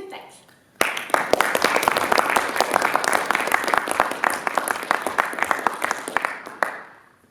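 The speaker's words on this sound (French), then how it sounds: "Donc sans plus attendre, on peut les applaudir" A theatre audience breaks into applause before a workshop performance, starting abruptly after a brief voice and continuing as sharp, dense clapping with some scattered louder claps, then dropping off near the end.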